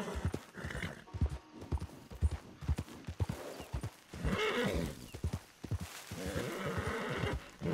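A video game horse whinnies while hooves clop rhythmically, loud and close, with a second neigh later over continued galloping steps.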